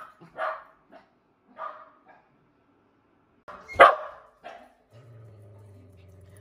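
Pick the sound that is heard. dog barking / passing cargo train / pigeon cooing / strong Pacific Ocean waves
dog barking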